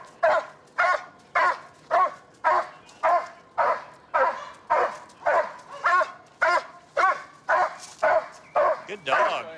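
A police dog barks loudly and relentlessly, roughly two sharp barks per second in a steady driving rhythm, close and aggressive throughout.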